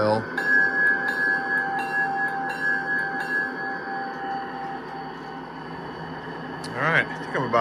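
Locomotive bell ringing on a GM50 locomotive, a steady repeated clanging tone lasting several seconds, with a voice speaking faintly underneath.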